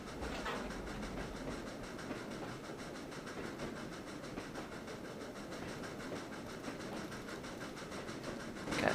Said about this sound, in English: watching the train in the distance